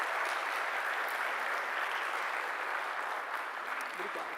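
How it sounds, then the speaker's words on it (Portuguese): Audience clapping at a lecture, a steady, even wash of many hands at moderate volume that holds throughout without a break, with no voices standing out above it. "Uma salva de palmas a Cristiane Arede."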